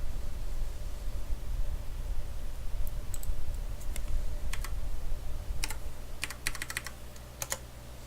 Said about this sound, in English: It is better if you type the values here.